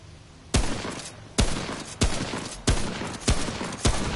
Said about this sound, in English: I'm using the hunting rifle.